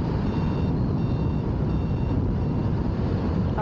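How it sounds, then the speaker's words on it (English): A Commander Pro electric unicycle sounds its high-pitched warning beeps during a fast ride, with several short repeated bursts over loud, constant wind and road rumble. "those are the wheel beeps"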